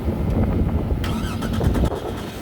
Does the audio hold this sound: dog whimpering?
no